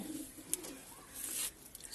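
Soft pigeon cooing, low and rounded, heard faintly in a quiet space with a few small rustles and clicks around it.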